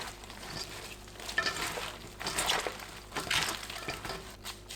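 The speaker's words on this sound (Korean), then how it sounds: "연근 섞어줍니다." Salted, rinsed napa cabbage being tossed by hand with lotus root for geotjeori, giving close, irregular wet rustling and crunchy squishing in uneven bursts, with no voices.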